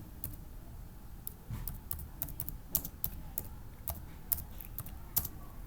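Keys clatter on a computer keyboard while a search term is entered into a shopping site, with irregular bursts of close, crisp clicks and short pauses over a low background hum.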